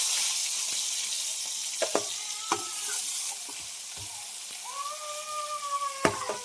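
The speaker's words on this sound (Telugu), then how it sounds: "చేప ముక్కలు అయితే మనం బాగా ఫ్రై అవుతూ ఉన్నాయి కదా" Fish pieces frying in oil give a steady soft sizzle with occasional sharp clicks and knocks from stirring, and a brief tonal cry rises faintly in the background.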